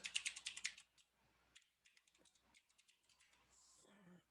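A quick burst of close keyboard typing as a node name is entered in Houdini, loud rapid clicks at the start followed by sparse, fainter taps and a soft rattle near the end.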